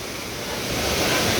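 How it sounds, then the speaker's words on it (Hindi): Banganga waterfall roars as a dense, continuous broadband rush, close and loud, swelling slightly over a brief moment with no voices. "बहुत ही शानदार झरना, जिसकी आवाज़ आप लोगों को सुनाई दे रही होगी।"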